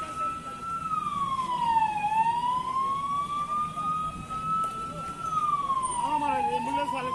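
A wailing emergency siren sweeps slowly up and down, with a steady hum of traffic underneath throughout.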